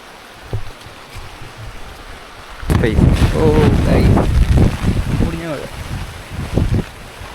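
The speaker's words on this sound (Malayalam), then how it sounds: "ഭയങ്കര കാറ്റ്." Strong wind gusts on the Karamana Walkway in Trivandrum during rain, a low rumbling roar that swells after a few seconds and blows over voices.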